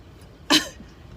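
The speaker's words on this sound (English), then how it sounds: "I'm gonna sneeze." A girl sneezes once during a Covid nasal swab test, a single sharp, close burst near the middle, with quiet room noise around it.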